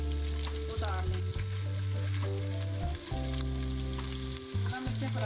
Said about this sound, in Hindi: इसमें डालूंगी शिमला मिर्चें। शिमला मिर्चें 4 मिनट तक फ्राई करनी